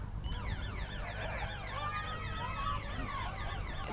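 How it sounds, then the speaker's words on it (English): A full-time siren sounds at a women's and under-23 country rugby league rep match, a steady wailing tone sweeping up and down, fairly loud over the open-air crowd and ground noise throughout. "It's the full-time siren sounds"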